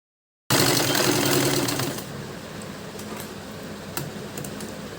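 A sewing machine stitches a blouse lining, starting abruptly with a loud, close whirring run that drops after a couple of seconds to a lower, steady motor hum with a few light clicks.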